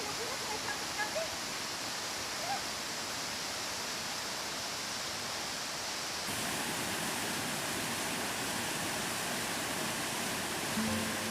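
A waterfall near Dumaguete City in the Philippines roars as a steady, dense wash of rushing water, loud and continuous, with faint voices at the start.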